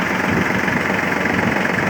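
Kubota L-205 mini tractor engine idling steadily in neutral, a continuous smooth, even diesel rumble with a faint mechanical knock, close and loud, with no talking.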